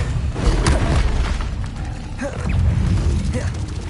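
Expelliarmus spell effect in the Hogwarts Legacy video game, a dense rumbling magical burst with whooshing, creaking and popping layers swelling and fading over a few seconds.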